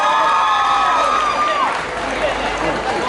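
Audience applause and cheering from a crowd at a women's college cultural fest, a steady dense wash of clapping with voices mixed in throughout.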